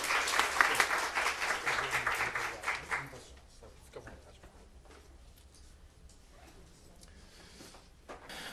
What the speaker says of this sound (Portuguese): Uma salva de palmas a ele, né?